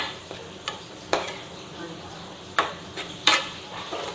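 A kozhukatta filling of cumin and cardamom being stirred in a pan, with a few sharp scraping clacks of the spoon against the metal over a low sizzle, no talk.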